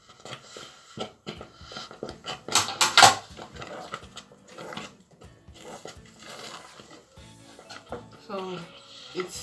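A spoon stirs oat porridge in a cooking pot, giving scraping and clinking sounds in irregular bursts, louder in the middle, with a person talking throughout.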